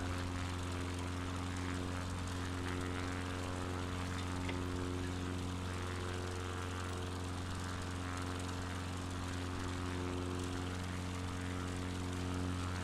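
Propeller airplane engine held at a little over half throttle in Microsoft Flight Simulator 2020: a loud, steady, unbroken droning hum with strong low tones, constant in pitch and volume throughout.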